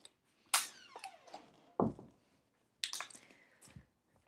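Gulps and squishy crinkles from drinking out of a plastic water bottle come in three separate bursts, close and fairly loud, with quiet gaps in between.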